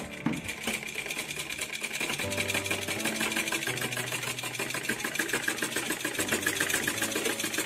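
A sewing machine stitching a frill onto a skirt runs in a steady rapid mechanical chatter, close and loud, with brief changes in speed and a low motor drone beneath.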